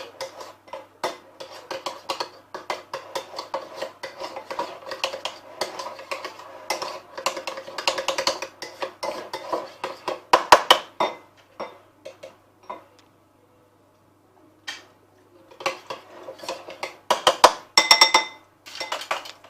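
Warm pork and chickpea salad with ginger and chili being mixed in a bowl, giving a run of close clinks, scrapes and taps in irregular bursts, pausing briefly before a final flurry, with no talk.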